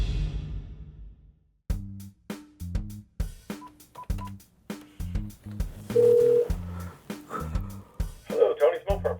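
A telephone speed-dials and rings, with a run of quick tone beeps followed by repeated ringback pulses in a regular rhythm, all faint and close, with brief talk near the end.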